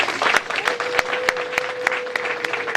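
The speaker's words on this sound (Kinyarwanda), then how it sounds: "muhaye amashyi n'impundu mwe" Wedding guests at a Rwandan betrothal ceremony clap steadily in a dense, continuous burst, with a sustained high ululation riding over the applause and sharp louder claps punctuating it throughout.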